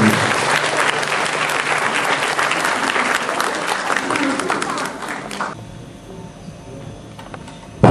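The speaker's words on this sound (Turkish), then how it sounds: "İlyas Sarateş'i alkışlarınızla sahneye davet" Loud, dense audience applause fills a hall as a saz player and singer is welcomed to the stage at a Turkish folk music event, then drops off sharply near the end, leaving quieter room noise.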